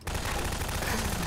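Rapid shotgun gunfire in Garry's Mod Prop Hunt, a dense, continuous barrage of loud game shots with no gaps through the whole burst.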